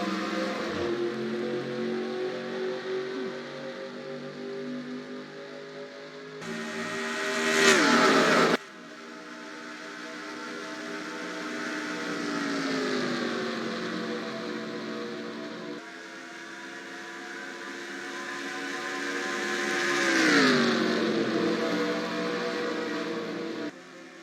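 Race car engines roar at Daytona in the NASCAR Racing 2003 video game, a steady, loud, layered drone whose pitch rises and falls, with louder surges near 7 and 20 seconds as cars sweep past, and no talking.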